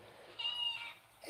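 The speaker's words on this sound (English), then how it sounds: "Hey, there's our new cat." A single short, faint meow from a cat, a brief tonal cry heard alone against quiet room noise.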